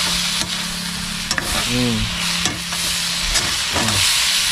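Ginataang kandoli, catfish cooked with turmeric, being stirred in a pot: a few scraping strokes of a utensil over a soft, steady sizzle, with a brief squeaky tone or two, close and moderately loud.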